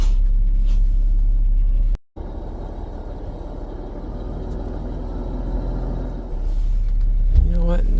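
A 2005 Beaver Marquis motorhome rumbles as it pulls out, its low engine drone steady and close after a brief cut, swelling slightly near the end with a faint airy hiss.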